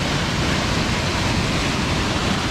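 Steady, dense roar of rushing water, broadband and unbroken like a waterfall close by, with no voices or pauses; at the Akame 48 Waterfalls in Japan.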